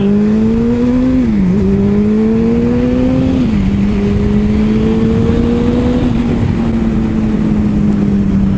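A motorcycle engine revs loudly and close, climbing in pitch through several gear changes with a smooth, hard tone, then holds a steady high drone, with no speech.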